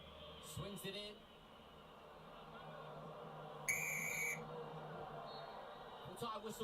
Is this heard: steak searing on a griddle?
no